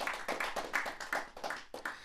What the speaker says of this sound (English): Clap your hands if you've ever run track before in this crowd